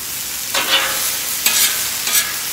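Seasoned onions stirred in a sizzling frying pan for a cheesesteak, three distinct scraping stirs at roughly even intervals over a steady background fry, close and clear with no voices.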